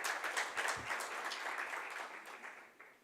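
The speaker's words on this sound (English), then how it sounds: "Can you please give him a round of applause?" Audience applause for a professor from the University of Johannesburg invited on stage at an eThekwini Municipality event, a moderate, fairly distant patter of clapping that stays steady, then thins out toward the end.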